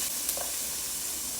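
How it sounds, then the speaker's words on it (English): Onions sautéing in hot olive oil in a pan, a steady close hissing sizzle with no talk over it. "I'm just sauteing the onions until they soften up"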